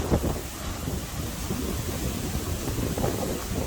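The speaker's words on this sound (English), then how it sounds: "I mean, it's terrible, the wind" Strong wind roars and buffets the microphone ahead of severe weather, a loud continuous rush with gusts swelling at the start and near the end.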